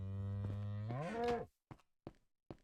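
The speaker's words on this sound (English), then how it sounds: "Hush cow." A video game cow gives one long, loud, close moo that rises in pitch at the end, followed by three short, sharp clicks or steps after a pause.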